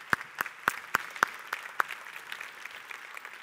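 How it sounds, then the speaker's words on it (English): Scattered claps from a keynote audience at a smart cities conference, starting with a handful of distinct sharp hand-claps and then dwindling into a faint, thinning patter. "Please join me in another round of applause for all of our amazing speakers this morning"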